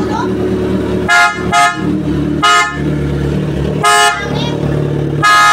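Several short, loud honks from a PIAA Super Bass horn on a Kawasaki Z1000 motorcycle come in an irregular series, the last one held longer, with steady background noise between them.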